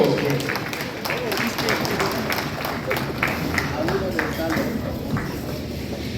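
Applause from brethren at a Nigerian Freemasons' half-yearly communication and convocation, a continuous patter of clapping mixed with talk in the hall.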